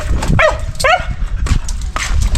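A hungry farm dog gives a few close, sharp barks and yips in quick succession, with whimpering pitch slides, over low outdoor background noise.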